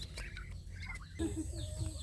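Chickens, including a mother hen, cluck and chirp softly nearby against a steady low hum, with short scattered calls through the clip.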